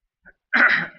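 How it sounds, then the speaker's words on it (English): A single short, raspy throat clearing, preceded by a faint breath, close and fairly loud with no talk around it. "I guess that's why I have to keep clearing my throat."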